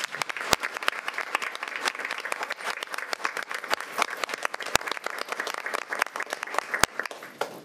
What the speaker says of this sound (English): give everyone a round of applause for a year of